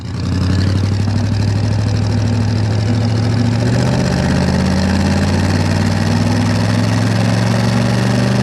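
A 1966 Chevrolet Impala SS with a 327 V8 and two-speed Powerglide idles steadily, a loud, close, even low rumble that holds without change.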